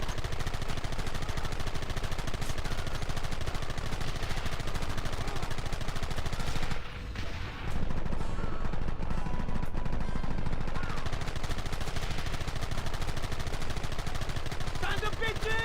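Gunfire in the video game Red Dead Redemption, dense and continuous rifle and gun volleys crackling at close range, briefly dipping once before resuming at full intensity, with shouting voices mixed in.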